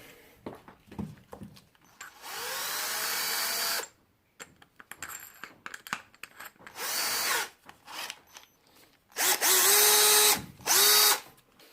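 An electric drill fitted with a polishing attachment whirs in several bursts, revving up and winding down, with two long runs and shorter pulses between quiet handling noises.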